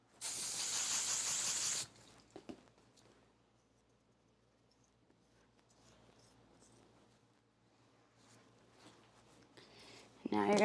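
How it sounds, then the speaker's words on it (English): Hairspray sprayed onto a braided hairstyle, one loud close hissing burst lasting about two seconds at the start, then quiet handling sounds, with a second spray burst beginning right at the end. "Now you're going to spray the braid real good."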